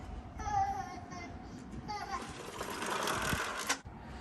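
Children playing and crying outdoors near an apartment in Japan, a faint, distant mix of high childish voices and babble carried on a breeze, with a steady wash of outdoor background noise.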